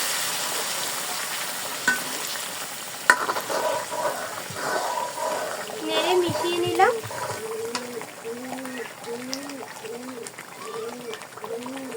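Chilies fry in a pot, a moderate sizzle with clinks and stirring, fading as a voice talks over the latter half with short rising speech tones.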